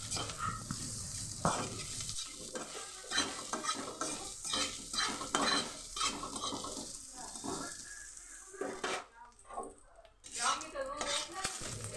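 Fried bitter gourd is lifted out of a hot pan, with a spoon or spatula scraping and clinking against the metal over a light sizzle in uneven bursts and brief pauses, with some talking mixed in.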